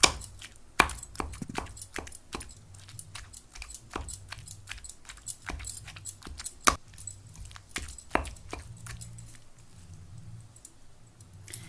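Tomatoes and tamarind are pounded by hand in a stone mortar for a ridge gourd chutney, producing irregular sharp knocks and squelchy thuds, some hard and clear, others soft, repeating unevenly at close range for several seconds.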